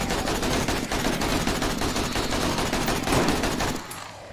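Rapid gunfire during a zombie horde night in the survival game 7 Days To Die, a dense, loud stream of shots with fast, steady bursts that keeps going without pause and cuts off abruptly near the end.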